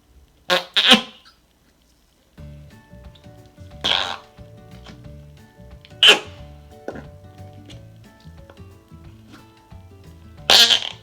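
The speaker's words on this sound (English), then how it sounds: "I hope you enjoy all my farting." Fart putty squeezed in a cup lets out several separate squelchy, blurting pops, four main bursts spaced a couple of seconds apart, close and fairly loud, with quieter rustling in between.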